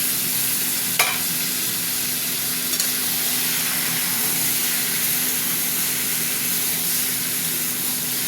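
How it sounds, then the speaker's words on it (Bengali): Ridge gourd slices sizzle steadily in a hot pan with tomatoes for a poppy-seed curry, a continuous close hiss of frying with a couple of faint stirring clicks and no talking. "এবার আমি দিয়ে দেবো ঝিঙেগুলো, দিয়ে দিলাম"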